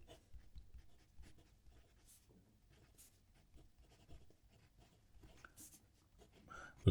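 A medium nib Jinhao X850 fountain pen scratches across paper in faint, close strokes with small irregular taps and scrapes and a quiet room behind.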